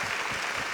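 An audience applauds for Dr Vivek Bindra and Bada Business, a brief dense burst of steady clapping from many hands.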